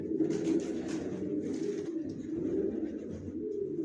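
Racing pigeon chicks coo in a steady, close, low murmuring stream that carries on throughout without pause.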